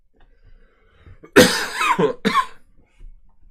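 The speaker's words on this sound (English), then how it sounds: "I've really got to stop this cough." A sharp, loud cough bursts out, followed by a second shorter cough, against near silence.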